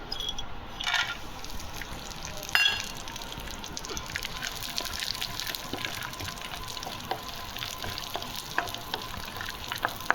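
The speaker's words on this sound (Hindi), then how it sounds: "सारे ड्राई फ्रूट्स हम करेंगे इसे रोस्ट अच्छी तरीके से।" Dry fruits roasting in a pan for sheer korma give a continuous soft sizzle with scraping stirring strokes and a few sharper clinks, fairly quiet and close, with no speech.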